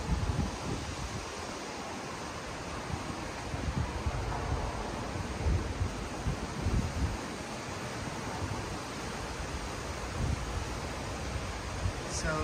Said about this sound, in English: You can hear the sound of the wind.